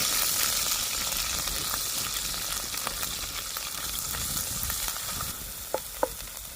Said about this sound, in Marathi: तर वाटण आपल्याला चांगलं परतून घ्यायचंय.